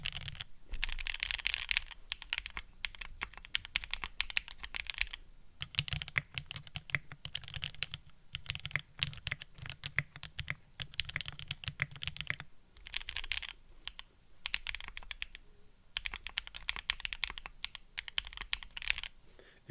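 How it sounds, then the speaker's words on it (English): Someone types on a Sangeo65 mechanical keyboard fitted with GMK keycaps. Close, steady keystrokes clack in dense runs for about twenty seconds, with a few brief breaks. "If you like marbly, this is definitely more marbly sounding."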